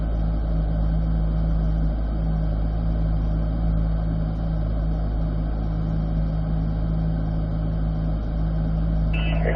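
A car driven hard through the corners and chicane of an autocross course, heard from inside as a loud, steady engine drone with little change across the run and no talking.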